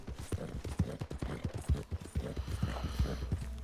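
Horse hooves clip-clopping at a brisk, irregular trot in Red Dead Redemption 2, the beats close and distinct over a low rumbling background.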